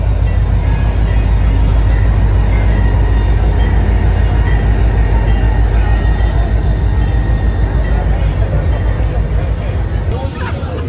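A train rolls steadily past on the rails, a loud continuous rumble with clattering wheels and a faint squeal near the end, while people talk quietly in the background.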